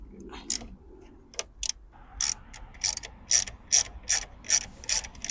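A ratchet turns a 7mm socket to loosen the stereo bolts in a 2011 Ford Ranger dash, giving a rapid series of sharp clicking bursts, close and fairly loud, regular toward the end after a few scattered clicks.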